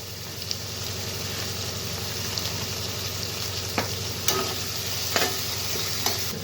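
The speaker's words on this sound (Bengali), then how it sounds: "কুচানো কাঁচা লঙ্কা দিয়ে ভালোভাবে নেড়ে চেড়ে নেব।" Maggi noodles with chopped green chillies and peas being stirred in a pan, a steady soft sizzle with scraping spoon strokes and a few sharp clinks against the pan.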